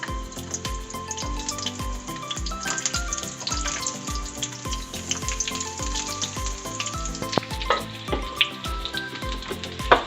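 Onions sizzling and frying in a pan for Korean rice cake, stirred steadily, with a continuous close crackle and repeated rhythmic scraping knocks throughout, no talking.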